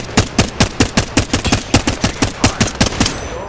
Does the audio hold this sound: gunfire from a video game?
yes